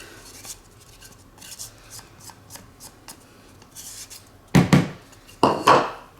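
A spatula scrapes and rubs through thick mocha pound cake batter in a bowl, starting as soft intermittent scuffs and ending in two louder, close scraping strokes.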